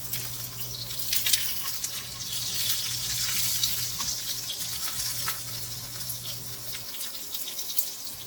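Steady crackling sizzle of steak frying in a hot pan in a van, with a low hum underneath and occasional louder pops.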